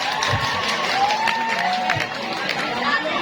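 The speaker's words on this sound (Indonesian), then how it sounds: "tepuk tangan buat Kevin." Classroom audience applauding a student who answered correctly, a steady wash of clapping mixed with crowd chatter and voices throughout.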